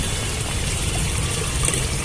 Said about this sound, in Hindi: ये मैंने पाइप को मतलब पाइप हटा दिया और इतना पानी